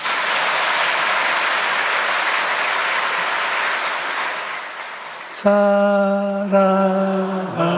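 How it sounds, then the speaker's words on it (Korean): Church congregation applause, a dense, even roar of many hands clapping for over five seconds, then giving way to sustained organ-like tones. "한번 박수로서 감사를 드리십시오."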